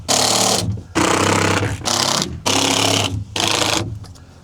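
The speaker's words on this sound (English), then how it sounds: "I'm just gonna screw this down to this pallet using some wood screws and some washers" A power drill drives wood screws with washers into a wooden pallet: five loud whirring bursts of about half a second each, split by short pauses, close to the listener.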